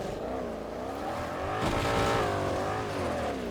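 A car engine revs in GTA 5 on the Radmir RP roleplay server, its steady, wavering drone swelling and easing, with a harsher burst midway that could be tyres squealing. No voices are heard.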